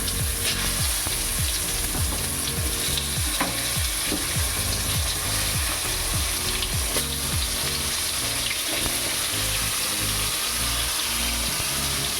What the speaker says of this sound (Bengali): আর এটাতে আমি পটল ভাজবো, আর দিয়ে দেবো লবণ।